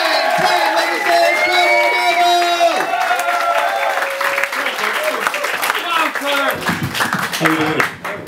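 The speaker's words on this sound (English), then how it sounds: "So let's start the applause off at a 6" Comedy club audience claps and cheers in a loud sustained burst, with whoops and scattered shouts rising over the crowd, while a performer's voice carries over the noise.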